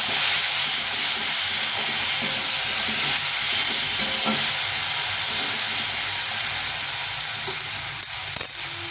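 Soybean curry masala with turmeric, chili and cumin powder frying in a pan, a loud continuous sizzle and hiss with faint stirring scrapes and a couple of brief clinks near the end.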